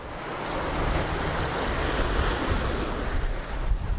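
Steady roar of ocean waves and strong wind buffeting the microphone aboard a sailboat at sea with steep waves, a continuous loud wash of surf with no voices.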